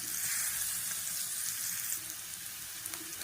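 Food sautéing in a pan on a stove, a soft, steady sizzle that eases off slightly partway through.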